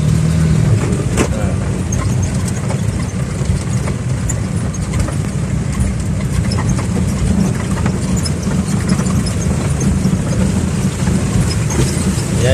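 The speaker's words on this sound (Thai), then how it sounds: "ทีมงานอบรถเขากำลังเอารถข้ามน้ำตอนนี้เนาะ" Cars drive across water on a forest track, heard as loud, constant engine rumble with a steady wash of noise throughout.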